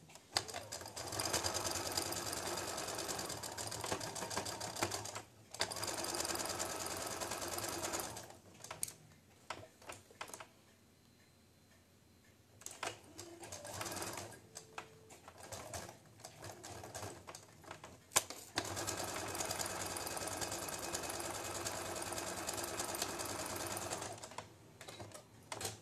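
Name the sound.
sewing machine stitching a patchwork seam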